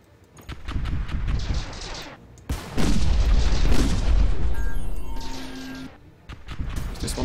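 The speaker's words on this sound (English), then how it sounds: "I should be getting a few good shots with the broadsides" Warship broadsides fire in a Stardrive 2 space battle, heavy booming volleys and crashing impacts rolling in a few loud bursts with brief lulls between them.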